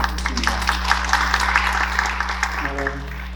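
An academic conference audience claps steadily for a short stretch, with a low steady hum underneath and a voice starting up as the clapping fades.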